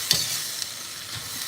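Tomato and vegetables stir-fry in a pan for pad see ew, with a steady hiss and a couple of quick utensil scrapes and clinks close by.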